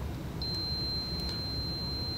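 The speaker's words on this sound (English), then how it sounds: "I have a solid beeping, okay, and I'm showing zeros." A steady, unbroken high-pitched multimeter continuity beep, probed across a fuse, holds for about two seconds over a quiet background hum.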